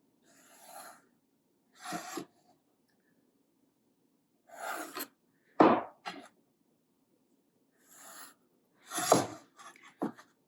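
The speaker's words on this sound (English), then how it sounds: "And then scribe those with my square." A marking tool is drawn along a square across MDF, making several short, close scratchy strokes with quiet pauses between them.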